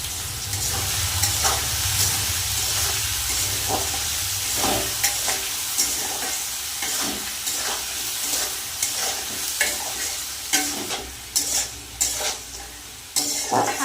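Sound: potatoes frying and being stirred in oil

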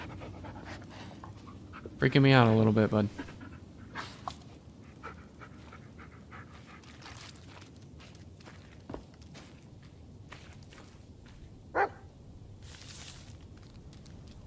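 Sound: dog panting in the Blair Witch video game

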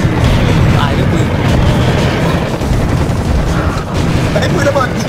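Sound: explosions from bouncing grenade launcher in Serious Sam video game

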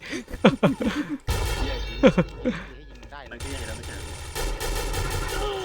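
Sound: Silver ARX16 gunfire in the XSHOT video game

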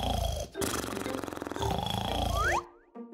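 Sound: snoring

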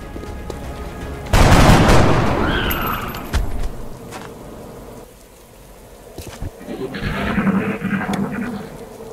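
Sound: gunfire in video game XCOM: Enemy Unknown

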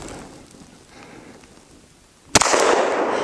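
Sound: Glock 20 pistol firing 10mm Underwood JHP rounds

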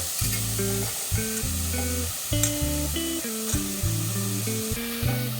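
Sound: rajma beans sizzling while being sautéed in a pan

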